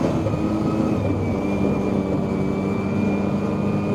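A 1972 Arctic Cat Panther 303 rotary snowmobile engine winds out at high revs, holding a loud, steady, close drone with a sustained whine and no break.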